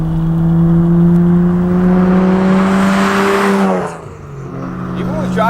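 A tuned BMW 135i with the N54 engine revs hard toward 7,000 rpm, its loud, rising engine note held for several seconds before it drops off sharply and begins to build again.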